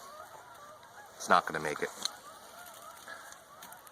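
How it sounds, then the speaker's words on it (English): Geese honk overhead in flight above a farm during the fall harvest, a short burst of several loud calls in quick succession while a person speaks nearby. "we're going to have some geese fly overhead, as you can probably hear."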